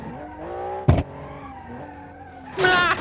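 A car driven without driving aids in the BeamNG video game, its engine note rising and falling with a short sharp burst near the start and a bright tire squeal toward the end, loud and close.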